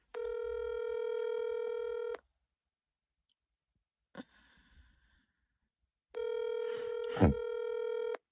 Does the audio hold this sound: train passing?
no